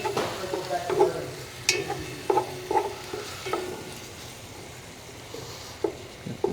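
Steak pieces brown in hot oil in a single pot, giving a low sizzle under repeated clacking scrapes of a utensil that stirs and spreads the meat, heard close with no talk.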